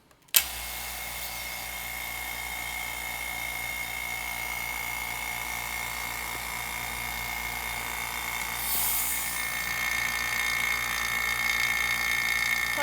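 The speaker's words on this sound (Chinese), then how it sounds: "那现在开始抽真空" A vacuum pump draws air from a chamber holding wood soaked in resin, starting abruptly and then running as a steady mechanical hum and hiss that grows slightly louder toward the end.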